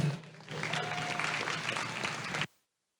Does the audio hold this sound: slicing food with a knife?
no